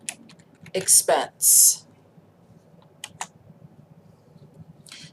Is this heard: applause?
no